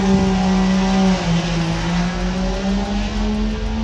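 Race cars, including a Camaro, roar around a track at a car event, with a loud sustained engine drone that shifts pitch as they pass, alone without talk.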